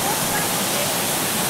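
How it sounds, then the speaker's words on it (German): A waterfall pours down a rock face at Edelfrauengrab, a dense, steady roar of falling water close by that fills the whole clip without pause. "Das ist ein herrlicher Wasserfall, der eine schöne Felswand runterkommt."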